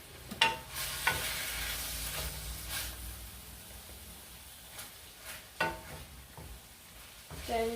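Salted chicken is frying in a pan while being stirred, with a continuous sizzle and occasional scraping knocks of the spoon on the pan, near and fairly quiet.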